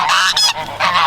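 Ducks give loud, close honking calls in quick repeated bursts, with a short lull in the middle before the honks return. No one talks.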